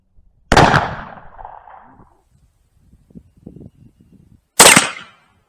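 1860 Army cap-and-ball black-powder revolver firing outdoors at a target range: two loud, sharp gunshots about four seconds apart, each with a short rolling echo, faint rustling between them.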